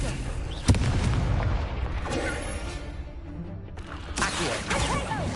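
Confringo blasting spell exploding in Hogwarts Legacy, a sharp bang followed by rumbling blast noise, with further spell impacts and crackling bursts later amid game music.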